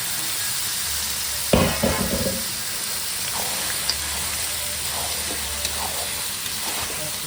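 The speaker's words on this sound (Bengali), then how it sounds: "তো ভালো করে কষে নিতে হবে, ভালো করে মাংসটা কষে নিই।" Mutton stir-fried in spice masala for Bengali mutton kosha gives a steady loud sizzle, with a sharp burst of frying and scraping early on and faint stirring clicks throughout.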